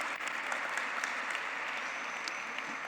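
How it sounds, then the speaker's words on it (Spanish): A church congregation applauds for the children during a service, steady clapping from a crowd filling the whole moment without pause. "Un aplauso para todos los niños."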